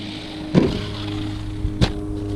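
Budget GPTOYS S921 dual-motor RC truck running, with a steady low motor drone and two short, sharp bursts standing out above it, close by.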